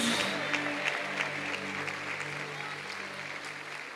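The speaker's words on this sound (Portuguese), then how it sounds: "Aplauda dando um glória a Deus bem bonito" Congregation applauding for Jesus at a church service during a miracle crusade, a steady broadband patter of many hands, with a sustained low tonal hum of music or organ underneath throughout.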